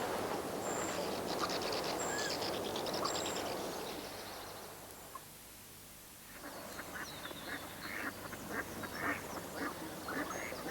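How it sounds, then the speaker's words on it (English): Tufted duck calling outdoors, a run of repeated calls over a steady background rush like flowing water, pausing briefly midway before more calls resume. "Tufted duck."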